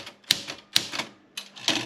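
Erika 40 typewriter struck in a few sharp, hard metallic key hits, each a bright clack with a ringing tail, spaced irregularly and heard close up.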